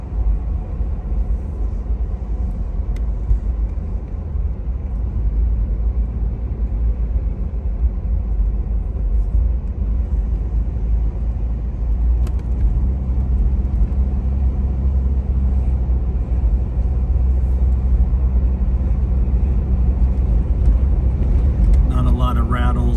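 A 1994 Toyota FZJ80 cruises along a road, its engine and drivetrain giving a steady, loud low rumble heard from inside the cabin for the whole stretch.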